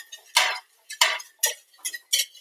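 Quick metallic clinks of a whisk against a bowl, five sharp strokes in an uneven rhythm, close by.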